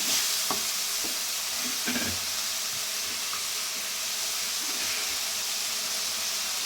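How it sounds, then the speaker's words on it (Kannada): Tomatoes with green chillies fry in a pan for an Indian aloo mushroom gravy, giving a steady close sizzle and hiss with occasional stirring scrapes and taps, no talk. "ಟೊಮೊಟೊ ಜೊತೆ 3 ರಿಂದ 4 ಹಸಿಮೆಣಸಿನ್ಕಾಯಿ ನೀಟಾಗಿ ಫ್ರೈ ಮಾಡ್ಕೊಳ್ಳಿ."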